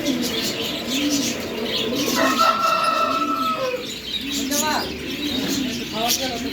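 Giribaz pigeons in a bird shop cooing repeatedly in low throaty rolls, with chirps and other birds around and people talking in the background.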